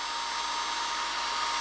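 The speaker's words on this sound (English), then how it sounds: "stick it in your drill, your cordless drill, and then use that to drill the hole" A cordless drill spins a piece of wire used as the bit to bore a hole, a steady high-pitched whine held at an even level, close and alone with no voices.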